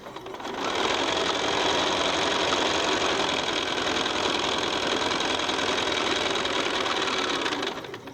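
A sewing machine stitches a half square triangle quilt block, its motor whirring in a steady, close, continuous run that starts up and stops cleanly, with no talking.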